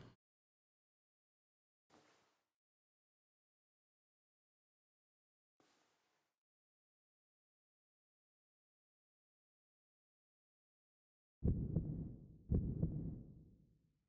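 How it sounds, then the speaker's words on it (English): A heartbeat in a video game: a few faint, isolated soft beats spaced seconds apart, then two loud, heavy thumps close together near the end, with no talking. "Heartbeat."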